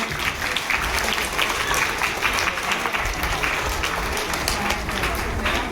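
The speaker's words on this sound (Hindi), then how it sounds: "इस गेम के लिए हम जोर से तालियां बजाएंगे।" An audience claps loudly and steadily for a children's game, with a dense wash of applause running the whole time and voices mixed in.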